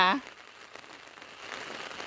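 Rain falls in a steady broadband hiss during a downpour at a home where water nearly floods in, with a brief tonal sound at the very start.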